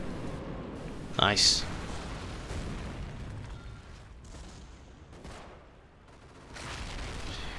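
Calliope rocket artillery in a video game, with a sharp burst of firing and explosions early on over steady low battle rumble, while a voice talks briefly.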